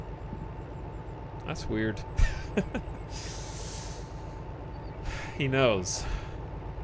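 A train engine in a video game idles with its throttle on and in gear, a steady low rumble running beneath people talking.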